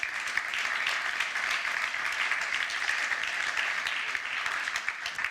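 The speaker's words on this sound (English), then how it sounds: "And with that, another round of applause for Luc, and thank you." A conference audience applauds after a technical talk on distributed computing, giving a continuous round of clapping that stays even and fairly loud throughout.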